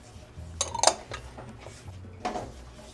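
Paprika toasting in butter and oil in a pan while being stirred: a soft sizzle runs underneath, and a utensil scrapes and clinks against the pan a few times, close by.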